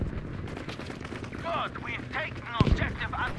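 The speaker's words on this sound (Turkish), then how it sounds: "Görmediğim yerden patlamalar gerçekleşiyor." Battlefield V gameplay with bursts of gunfire and a sharp explosion near the end, set against a busy battle mix with chirping and whooshing effects.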